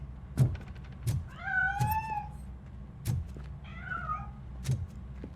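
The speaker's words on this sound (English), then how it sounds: "That cat must be hiding inside." Cat meowing in the video game Robocop Rogue City: two drawn-out, rising-and-falling meows stand out clearly over a low ambient game hum, punctuated by several short sharp clicks.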